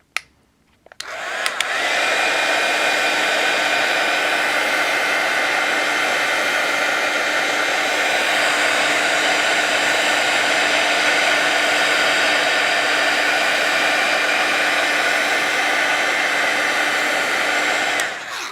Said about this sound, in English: Do this with my heat tool so it dries.